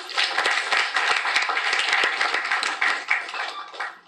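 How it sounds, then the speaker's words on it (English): An audience at a mental health event gives a full round of applause, dense steady clapping that stays loud for the whole stretch with no talk over it. "Can you please give him a big round of applause?"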